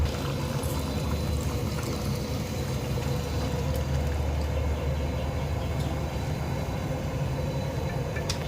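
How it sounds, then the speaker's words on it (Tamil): A continuous rough pouring and hissing rush of soaked rice into boiling water, steady and close, with faint clinks over a low rumble and no voices. "கொஞ்ச நேரம் ஊற வச்சுருந்த அரிசியை நம்ம அதை எடுத்து போட போகிறோம்"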